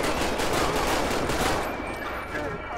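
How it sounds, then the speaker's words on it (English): Rapid bursts of gunfire in the LSPDFR police mod of a video game, dense crackling volleys that stay loud throughout and ease off slightly toward the end, with talk faintly mixed underneath. "Where are they shooting from? Who's shooting?"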